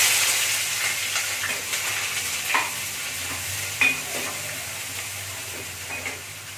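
Onions fry in hot oil in a pan with a steady hissing sizzle and a few light stirring scrapes. The sound is close and holds at a fairly even level, with no talk.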